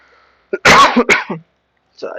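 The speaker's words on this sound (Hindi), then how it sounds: "आज खांसी आने चालू हो गया।" A harsh, close cough in two quick bursts, followed by silence and then a faint voice starting to speak.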